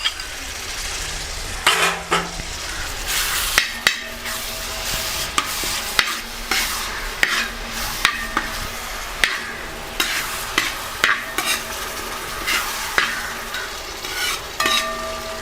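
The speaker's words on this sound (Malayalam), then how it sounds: "പച്ചമുളകും വെളുത്തുള്ളിയും കൂടെ ചതച്ചതാണ്. അതും കൂടെ ഇട്ട് നമുക്ക് ഒരുമിച്ച് വഴറ്റിയെടുക്കാം." Crushed green chili and garlic sizzle in coconut oil while a spoon scrapes and clanks steadily against the pan, giving frequent sharp stirring knocks over a continuous frying hiss.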